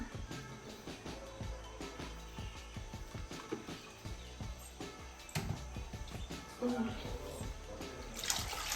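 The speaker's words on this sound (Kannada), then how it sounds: "ನೀರು ಹಾಕ್ತಾಯಿದ್ದೀನಿ" Water pours steadily into a pot of rasam sambar with a continuous splashing rush, clattering kitchen noises around it and a voice talking over it.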